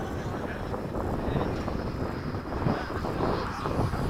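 A Hobby King Avios 90mm MiG-17 model jet takes off, its electric ducted fan giving a steady broadband roar mixed with wind buffeting on the microphone, with people talking over it.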